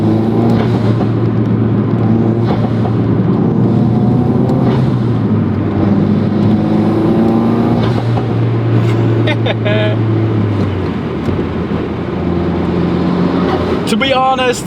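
A tuned 415 HP Ford Focus RS accelerates hard, its loud engine drone climbing through the gears steadily for the whole stretch while people talk over it inside the car.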